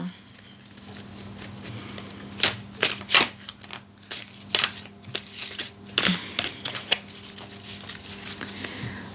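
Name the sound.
shuffling a full 78-card Tarot de Marseille deck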